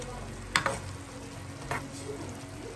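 Garlic sautéing in a pan at home, a soft sizzle with a couple of brief stirring scrapes, fairly quiet and close, without talk.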